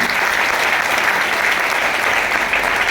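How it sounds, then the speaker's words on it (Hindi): An indoor audience at a motivational direct-selling seminar claps loudly and steadily, a dense, even wash of applause with no speech over it. "एक बार जोरदार ताली बजा सकते हैं।"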